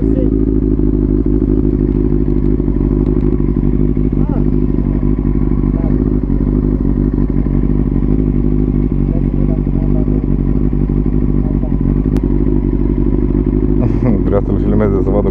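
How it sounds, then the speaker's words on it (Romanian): A scooter-type motorcycle engine idles and revs loud and close for about fifteen seconds, a steady throbbing drone with rattling clatter, a slight rise in pitch near the end. "Te încurcă dacă îl turezi puțin motorul?"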